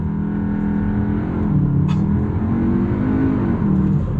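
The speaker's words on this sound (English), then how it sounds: "It does have that 5-cylinder grunt to it." A Cupra Formentor VZ2's five-cylinder engine revs up hard and loud on launch, its droning tone rising steadily as the car accelerates, heard up close.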